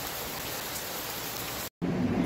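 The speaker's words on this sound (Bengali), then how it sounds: "দেখো বাইরে কি অবস্থা, কীভাবে বৃষ্টি পড়ছে কনস্ট্যান্ট" Constant rain pours down outside, a dense steady hiss close at hand that cuts out for an instant before resuming with a slightly heavier, rumbling texture.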